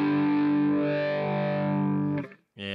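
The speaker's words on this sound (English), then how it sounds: "here's the phaser before the overdrive" Electric guitar runs through a Headrush pedalboard with a phaser placed before the overdrive, producing a sustained, distorted chord that sweeps and swirls, then cuts off briefly before another chord is struck.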